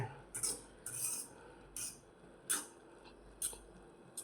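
A plate used as a lid is lifted off a pot of cooking Maggi noodles, giving about six sharp, bright metallic clinks spaced under a second apart in a quiet room.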